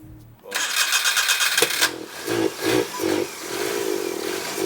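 Small three-cylinder engine of a Daihatsu Midget cranks and catches, then idles and revs in a few short bursts with an uneven, loud mechanical note, close by and alone.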